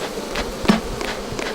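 Thousands of bees swarm at an apiary in the Caatinga, a dense, steady buzzing hum filling the air close by, with a few faint knocks.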